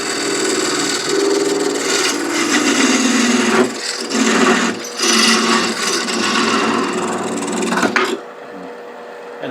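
Loud, continuous rasping scrape of a tool parting off turned wood on a lathe spinning at about 1000 rpm while making a rook chess piece box. The steady cut has brief dips and ends abruptly near the close, with no talking.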